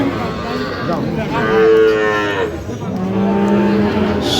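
A Sahiwal bull calf at a busy cattle market gives two long, loud, close moos, the first higher and the second deeper, over steady crowd murmur.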